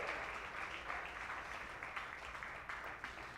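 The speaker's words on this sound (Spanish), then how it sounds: "Dale ese aplauso al Hijo de Dios en esta hora" A church congregation applauds at a Spanish-language sermon, a steady, fairly soft wash of clapping heard from across the room that keeps going without a break.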